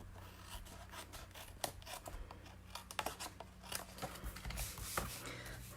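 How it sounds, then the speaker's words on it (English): Scissors trim the end off a sheet of designer paper, a series of quiet, close, crisp snips and rasping cuts in an irregular rhythm with no talking. "So let me bring in my scissors."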